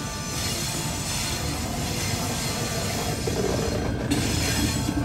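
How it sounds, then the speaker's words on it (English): An 82 Class locomotive hauling a ballast train rumbles steadily past a level crossing at Taree, with loud continuous rolling and wheel noise that holds for the whole stretch and swells slightly toward the end. "The ballast train is heading up north to fix the track because of the floods."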